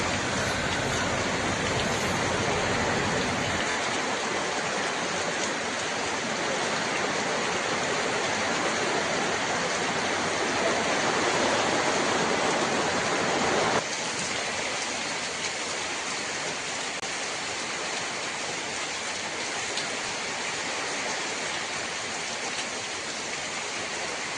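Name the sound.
heavy rain falling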